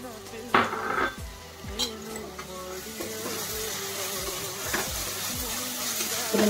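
Mint leaves tossed into a frying pan for chilli chicken, with a soft sizzle under repeated metal clatters and scrapes of a spoon stirring against the pan.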